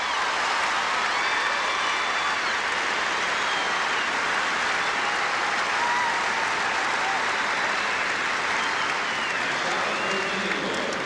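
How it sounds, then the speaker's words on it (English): A large arena crowd at a women's gymnastics event final cheers and applauds a high score, a dense, steady roar of clapping and voices that holds loud and unbroken throughout. "Listen to the crowd."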